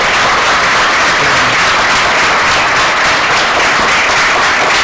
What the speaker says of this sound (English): give you another round of applause for a great talk